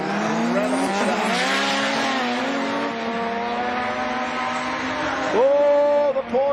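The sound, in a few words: time attack race cars on track, Porsche, Evo, RX-3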